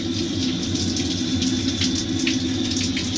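A Tabodd 32kW portable gas water heater feeds a shower, giving a steady, close hiss of running water that continues without a break.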